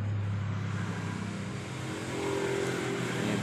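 A Honda Beat motorbike engine, run out of oil, runs continuously nearby with a rough, rattling drone and no pauses.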